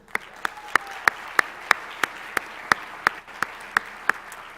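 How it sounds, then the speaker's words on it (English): Audience applause at a high school National Honor Society ceremony, heard as a series of evenly spaced, sharp claps about three per second, close and distinct over a faint room background. "Please give a huge round of applause to our assistant principals, Liz Bruning and Maureen Head."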